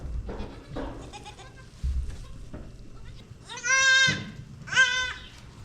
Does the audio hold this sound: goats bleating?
yes